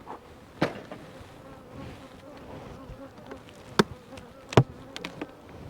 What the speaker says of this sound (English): there's too many bees in there